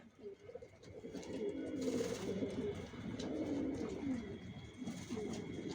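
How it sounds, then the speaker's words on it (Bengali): Racing pigeons of a single Janssen line, adult birds in moult inside a loft, coo steadily and continuously at close range, several soft throaty calls overlapping throughout with no talking. "সব একই লাইনের জনসনের সব লংয়ের কবুতর"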